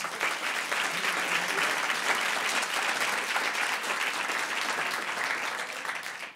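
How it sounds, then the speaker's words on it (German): A comedy-club audience gives sustained applause for two siblings, a dense, constant roar of many clapping hands at steady loudness that fades only at the very end. "Einmal dicken Applaus für die beiden"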